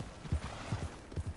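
Horse hooves clip-clop in Red Dead Redemption 2, a few paired thuds spaced across a short stretch at moderate loudness, with no talk over them.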